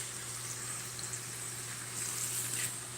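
Onions fry in a pan toward crispness, giving a steady, soft sizzle with a faint bubbling hiss under a low constant hum, close by and without speech.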